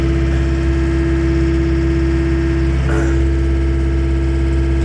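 A John Deere tractor engine runs loud and close with a steady drone and a thick, throbbing hum, then its pitch shifts abruptly about midway through as the engine revs by itself while sitting at idle.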